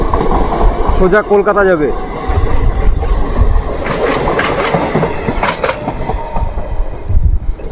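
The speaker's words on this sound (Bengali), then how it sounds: "এটি হলো ধনধান্য এক্সপ্রেস" Dhanadhanya Express passenger train running past a railway gate near Murshidabad Junction, a loud continuous rumble and rattle with a horn-like tonal burst early on, while a person talks over it.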